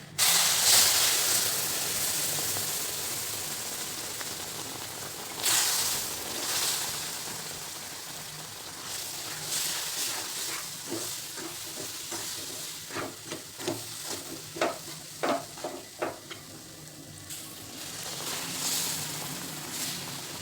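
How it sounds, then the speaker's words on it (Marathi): Hot sugar syrup poured into hot roasted semolina for a quick halwa, a loud steamy hiss at first that settles into steady sizzling with a run of soft bubbling pops, close and without voices. "आता आपला पाक पण रेडी आहे तर पाक टाकायचा"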